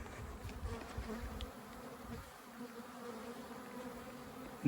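Honey bees humming in an open hive during a spring inspection, a low steady buzzing drone, close and continuous, with faint handling noises and a sharp knock at the very end.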